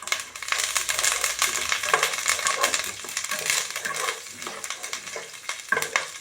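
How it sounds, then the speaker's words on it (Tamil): Mustard seeds and urad dal crackle and sizzle in hot sesame oil while curry leaves and green chilli wait nearby, a loud, dense spitting and popping close up, broken by stirring scrapes and no voices. "இது வெடிக்கட்டும்."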